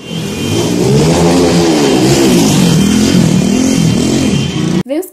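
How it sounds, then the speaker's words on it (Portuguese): Loud, close engine revving from motorcycles without exhaust mufflers in a street, a continuous harsh roar that rises and falls in pitch for nearly five seconds before abruptly stopping. "todos os caras, com aquelas motos sem escapamento, fazendo muito, muito barulho na rua"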